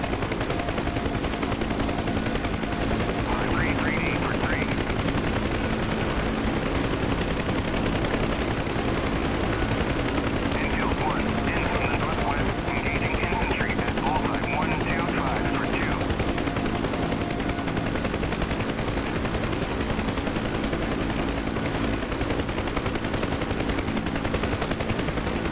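Gunfire in the DCS World flight simulator during a UH-1H Huey rescue of downed pilots, scattered bursts of shots heard at a distance over the constant loud rotor and engine drone of the helicopter.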